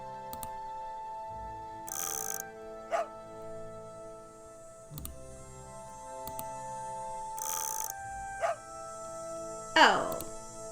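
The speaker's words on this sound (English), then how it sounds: "I just want to hear him bark." A dog barks a few short, sharp times in the mystery game Nancy Drew: Ghost Dogs of Moon Lake, spaced apart over soft looping background music and chimes, loudest near the end.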